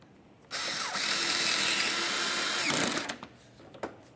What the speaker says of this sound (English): Install your mounting screw.